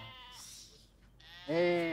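Sheep on a farm, two bleats from a nearby animal, a shorter one first and a louder, sustained quavering bleat after a brief pause.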